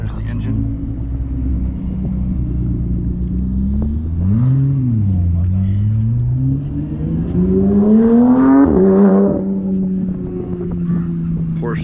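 A Honda NSX engine hums and rises in pitch as the car drives by at a car meet, a steady rumble that swells and shifts, with people talking over it.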